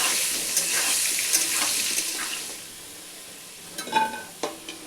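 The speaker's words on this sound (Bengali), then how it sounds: "সর্ষের তেল, আলুগুলো ভেজে নেব।" Potatoes frying in mustard oil, a steady hiss of sizzling with a few scattered clinks and stirring scrapes, growing busier near the end.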